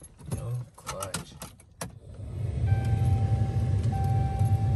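Keys jingling briefly and close at the start as the ignition key of a 4th-gen Cummins diesel truck changes hands, mixed with voices, followed by a steady low engine rumble with a whine.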